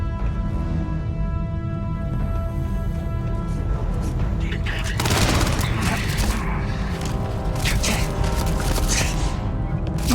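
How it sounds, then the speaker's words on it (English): Gunfire and impacts in the space video game Starfield, a dense stretch of bursts and booms over a constant background drone with a loud flurry midway, alongside talking. "Who's shooting me?"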